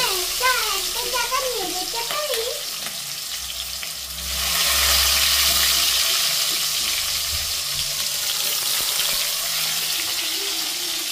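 Ginger, garlic and onion paste frying in a kadai, a loud steady sizzle that swells midway and keeps hissing, with a voice talking over it early on.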